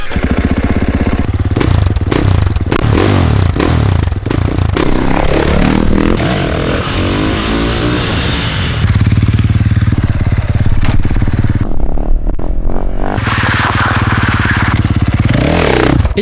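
A 2018 Husqvarna FS450 supermoto motorcycle engine runs loud and close throughout, with revving surges, a brief dip in the middle and some clattering mechanical noise alongside.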